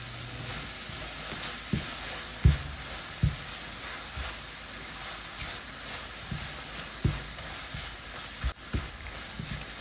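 Apple turnover filling thickened with corn starch bubbles and sizzles softly in a pan over medium heat, with scattered knocks and scrapes from stirring.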